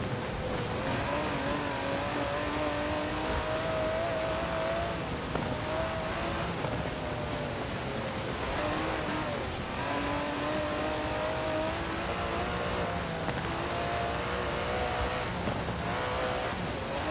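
An Aston Martin DB11 with a 5.2-litre twin-turbo V12 drives in Forza Horizon 4, its engine droning steadily and rising and falling in pitch as it shifts through gears, with faint tyre noise.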